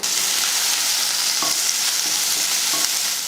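Onion and green chillies fry in hot oil with mustard seeds in a kadai, making a loud, steady sizzle with a few scrapes of stirring and no voices.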